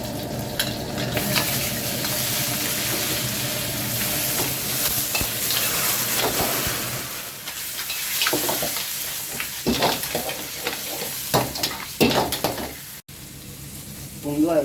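Mussels stir-fried with chili paste in a hot pan hiss and sizzle steadily, with a spatula scraping and clattering against the metal in irregular strokes. Near and fairly loud, with no talk.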